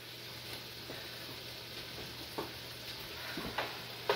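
Food frying in a pan at home, a soft steady sizzle with occasional faint pops and ticks, quiet and close.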